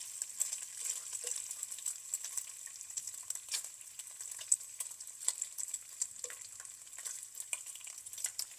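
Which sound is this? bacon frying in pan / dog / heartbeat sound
bacon frying in pan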